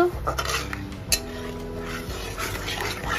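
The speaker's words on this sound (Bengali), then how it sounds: "এইভাবে দুধটা একটু নাড়িয়ে নেব" Liquid milk is stirred in a hot kadai with a spoon, producing close metallic clinks and scrapes against the pan with a soft liquid swirl underneath.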